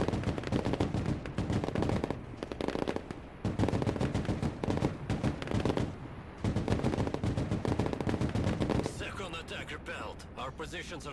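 Machine gun fire in the Broken Arrow war game, a Latvian infantry battle scenario, with dense sustained bursts and overlapping gunshots throughout, loud and continuous, briefly mixed with voices.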